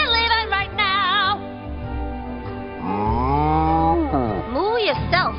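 Long, loud cartoon cow moos warble close up, several drawn-out lowing calls with wavering pitch, voiced in the style of an animated series.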